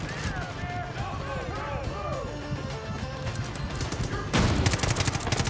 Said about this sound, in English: they're dropping in bombs. That's gonna hurt. Oh, alright, we're gonna have to find where they're firing the mortars from